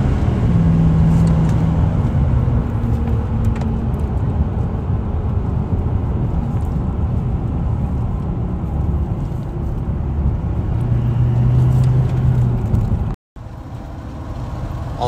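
A Duramax diesel pickup running a Banks Derringer tune accelerates with traction control off, a steady loud engine roar and road rumble heard from inside the cab with no talk, cutting out briefly near the end.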